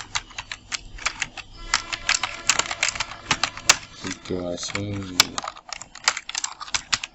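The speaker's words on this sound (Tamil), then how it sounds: "அடுத்தது அவங்க நேமை டைப் பண்ணிவிடுவோம்" Rapid bursts of keystrokes on a computer keyboard as a name is typed, close and crisp, with a short pause and brief murmured talk midway.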